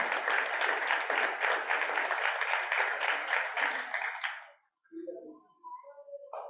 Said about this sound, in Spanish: Yo creo que se merece un segundo aplauso.